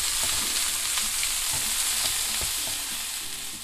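Onion and garlic fry together in a pan, a steady bright sizzle that holds throughout with scattered crackles and a few soft scraping stirs, close and fairly loud, no voices.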